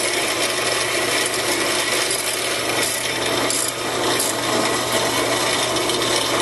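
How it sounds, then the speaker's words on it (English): A ratchet and wrench slowly tightens over-tightened bolts on a pump, giving a loud, continuous grinding rasp close up that holds steady throughout. "Take your ratchet and your 7/16 and slowly begin to tighten. You hear that sound?"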